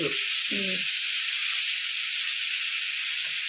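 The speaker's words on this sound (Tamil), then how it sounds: "இப்போ தக்காளி போடுறோம் அதுவும் நல்லா வணங்கணும்" Tomatoes hit a hot pan for a fish curry, producing a steady, loud hissing sizzle throughout, with a couple of brief clinks near the start.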